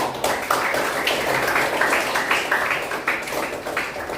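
A class claps for a student group's presentation on Islamic religious education, a brisk, dense round of hands clapping close by, steady and loud throughout.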